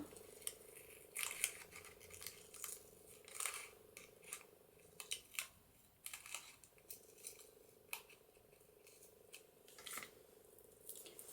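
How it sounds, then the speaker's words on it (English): Scissors snip and trim paper decoration for a handmade journaling book, a series of crisp close cuts in short irregular bursts, with quiet pauses between them and no talking. "I'm going to trim that off to the right length."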